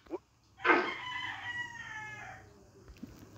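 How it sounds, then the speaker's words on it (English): A rooster crows once, loud and fairly close, with a rising then drawn-out cock-a-doodle-doo over faint background noise, preceded by a short click. "That chicken is so annoying."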